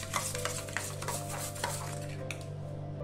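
A spoon stirs coriander, cumin and garam masala powders with salt in a bowl, producing continuous close scraping and light clinks against the dish, with no voices.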